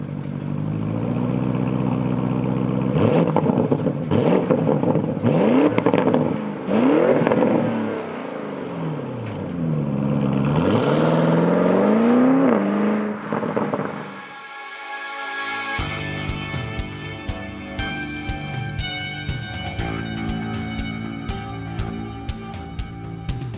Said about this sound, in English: Join us for a driving review of the Porsche Cayenne GTS Coupe.